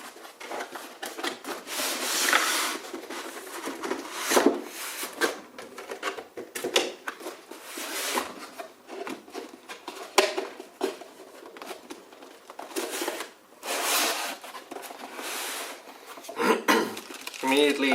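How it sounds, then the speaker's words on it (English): A Seasonic TX-1000 power supply being unpacked from its box: near, continuous rustling, rubbing and shuffling of packaging with scattered light knocks and clinks of small parts over about eighteen seconds. "let's unpack it and see what's inside."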